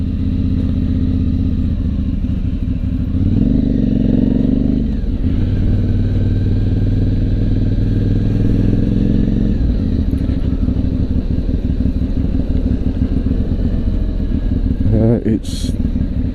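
An Aprilia Shiver motorcycle ridden slowly through town in stop-start traffic, its engine a steady close rumble that rises and falls with brief revs, under continuous rider talk.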